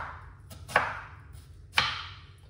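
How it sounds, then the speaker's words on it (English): A knife chopping white onion on a board, two distinct crisp chops about a second apart, each with a short ringing tail, close and clear with no voices. "cut up the onion, finely chop up the onion"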